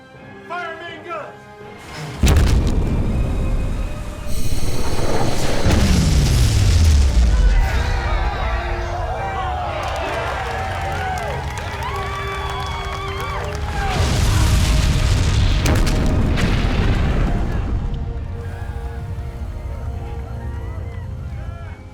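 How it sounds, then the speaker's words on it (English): Warship main guns fire amid explosions in a sci-fi action battle, booming blasts with a deep rumble and a falling whistle, followed by a long roaring sustained barrage that swells again later, loud and close, with speech mixed underneath. "Target that ship! Fire main guns!"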